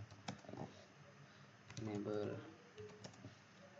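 Close, quick keystrokes on a computer keyboard as network configuration commands are entered, irregular taps in short clusters with a person talking over them.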